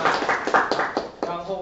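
Clapping from a small audience welcoming a teacher at the start of a free class, a handful of distinct claps in a loose rhythm, close and fairly light, with a voice speaking over them.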